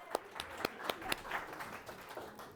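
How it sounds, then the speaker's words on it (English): A small lecture audience claps in a short, sparse burst, a handful of distinct hand claps standing out at first before thinning into a quieter patter. "And a round of applause for Linda."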